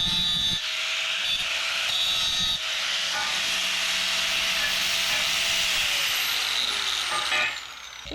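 Metal grinding on the floor pans of a 1967 Mustang under restoration, a sustained high abrasive whine and hiss lasting several seconds, pitch drifting as the tool works, then easing off near the end.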